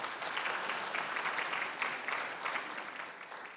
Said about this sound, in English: How about a round of applause for Bombu Taiko?